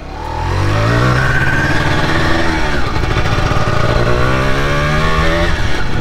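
A Yamaha TZR125 two-stroke motorcycle engine runs steadily and loudly up close, its buzzing drone shifting pitch slightly with throttle for about six seconds, with no voices.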